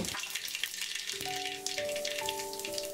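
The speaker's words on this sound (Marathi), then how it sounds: "इथे मी एका पॅनमध्ये दोन मोठे चमचे तेल गरम करून घेतलेलं आहे त्यामध्ये एक छोटा चमचा मोहरी त्यानंतर एक छोटा चमचा जिरे" Mustard and cumin seeds sizzling in hot oil in a pan for farsan bhaji, a dense, bright close crackle and hiss with a faint tonal hum running beneath, no talk.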